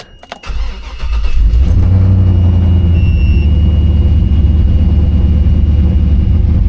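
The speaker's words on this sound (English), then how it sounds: "It's just on cats, no mufflers right now, so it doesn't sound great tone-wise" An LS-swapped Toyota 80 Series idles on catalytic converters with no mufflers, a steady, loud, close rumble with a raspy exhaust tone that rises to full level within the first second and holds. No one speaks.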